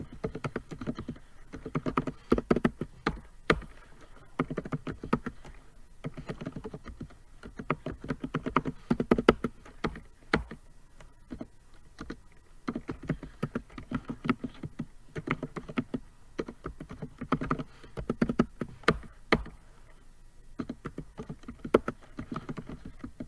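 Typing on a computer keyboard to enter analyte names during FROG-5000 calibration setup, with bursts of rapid close key clicks separated by short pauses, steady and moderately quiet.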